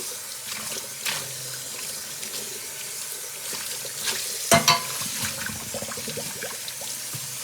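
Cat food bowls are rinsed under a running tap, giving a steady hiss of flowing water with scattered clinks and splashes, including a couple of sharper knocks near the end, close by with no talking.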